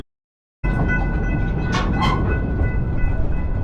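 An amusement park train ride at Busch Gardens Williamsburg rolls along the tracks with a loud, continuous rumble and rattle, a couple of brief squeals rising above the steady noise.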